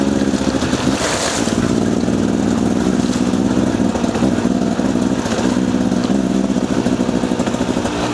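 Motorcycle ridden along a wet, muddy green lane on a rainy day, its engine droning loud and continuous with steady throttle and faint splashing texture over about eight seconds.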